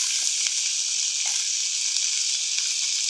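Spices with salt, chili and coriander powder, cumin and ginger garlic paste frying in a pan for red amaranth greens, a dense, even, close sizzle with a few faint stirring taps.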